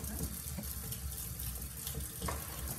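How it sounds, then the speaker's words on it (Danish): Cold tap water running steadily over rocket salad leaves in a kitchen sink, a continuous soft splashing hiss with faint clinks of handling. "Så skal vi have skyllet noget rucola-salat. Det gør du under koldt vand."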